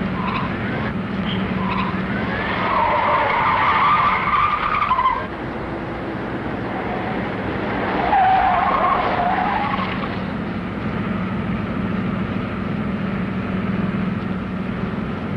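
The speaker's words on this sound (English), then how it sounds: "Intercept two speeding cars headed east, now being followed by police car number 34" Speeding cars in a 1940 film police chase screech and skid loudly, with long tire squeals and roaring engines swelling and fading over a continuous background.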